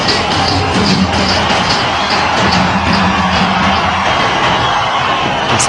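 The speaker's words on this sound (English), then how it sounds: "he's played a sensational knock here, much to the delight of the entire crowd. Listen to the reception, it says it all" A large stadium crowd at an India versus Australia one-day international roars continuously for Yuvraj Singh's century, a loud, dense wash of cheering with rhythmic claps and chants.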